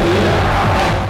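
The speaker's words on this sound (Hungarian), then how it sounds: "Tapsból és sikításból a sátorban sem volt hiány" A festival crowd in a tent cheers and screams in one loud, continuous roar that fades slightly at the end.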